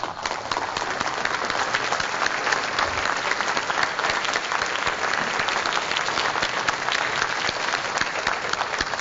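Loud, sustained applause from a large conference audience honouring the coaches at a coaching conference closing session, a dense steady wash of clapping that holds evenly from start to finish.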